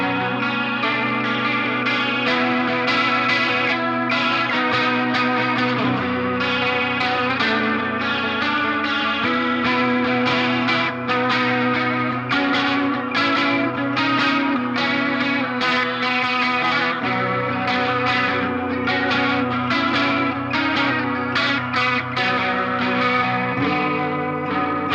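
Electric guitar through a vintage Arion SCH-1 chorus pedal set to imitate a Leslie rotating speaker, a swirling, warbling, slightly gritty tone on continuous chords and riffs, steady and close with no talking.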